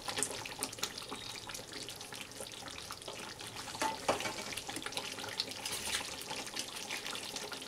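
Hot water pours into chicken cooking in a pan in a home kitchen, a soft, continuous splashing and trickle with a faint sizzle, fairly quiet and steady throughout.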